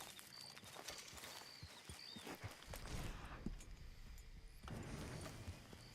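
A horse in Red Dead Redemption 2 Online walks with faint, uneven clip-clopping hooves and light shuffling on the ground, quiet and somewhat distant, with no talk.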